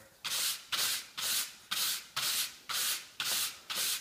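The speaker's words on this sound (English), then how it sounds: "I'm just going to rub it along this sandpaper" A 1-inch synthetic paint brush is rubbed along sandpaper in eight even, close rasping strokes, each a short burst of scratchy friction with brief pauses between, no voices.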